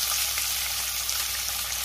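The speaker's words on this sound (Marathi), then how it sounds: "आणि कांदा आपण 2 मिनिटं चांगला परतून घेऊया" Chopped onion sautéing in a pan with ginger-garlic paste, cumin and asafoetida for a Marathi potato bhaji, producing a dense, loud, continuous sizzle with no voices.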